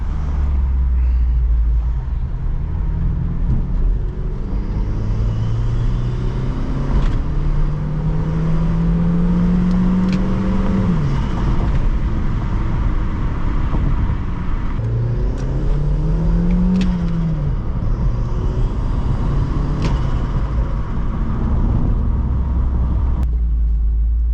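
A turbocharged Honda Civic with an R18 engine and a Civic Si exhaust, running low boost on a wet road, accelerates hard in repeated rising pulls. A deep, loud exhaust roar climbs through the gears with brief dips between shifts.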